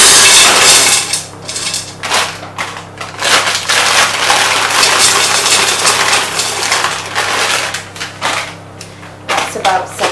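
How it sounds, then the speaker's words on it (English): About 700 grams of dry pasta poured into a saucepan, a loud, close, hard rattling cascade that comes in several uneven bursts with brief pauses. "Next I'm going to add 700 grams of pasta to a saucepan."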